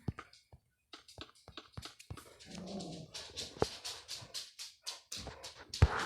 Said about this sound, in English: Damn dogs are getting my recording.